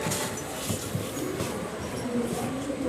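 A Bikaner–Prayagraj superfast express train pulls out of Ringas Junction, heard from inside the coach as a broad steady rumble of rolling wheels and carriage noise, loud and continuous.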